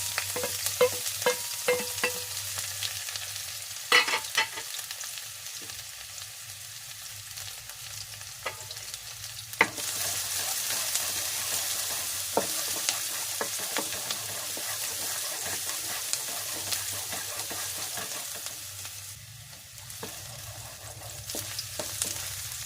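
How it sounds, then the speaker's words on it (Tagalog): Garlic sautéing in a pan for a pork and mushroom dish: a steady, close sizzle runs throughout with frequent scraping stirs and a few sharp utensil knocks against the pan. "Sinunod ko na yung aking bawang, guys."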